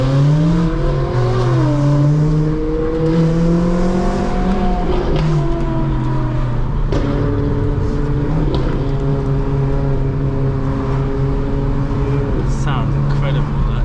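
A Ferrari 458 Pista engine roars past, its rising and falling tones sweeping through gear changes over a steady rumble, loud and close, with someone talking excitedly over it.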